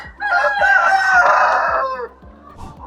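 A rooster crows loudly and close, a long drawn-out call, with hens clucking and low murmuring from the flock around it in a chicken house on a Kenyan farm.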